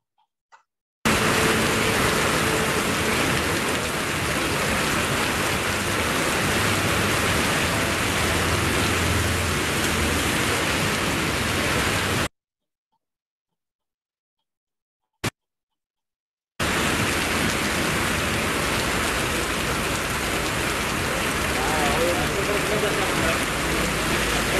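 Heavy monsoon rain falls steadily on a road, a dense close hiss that drops out briefly midway, with a short burst in the gap, then resumes.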